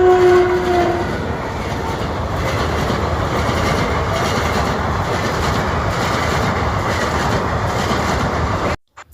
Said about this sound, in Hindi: फाइनली ट्रेन आ गई।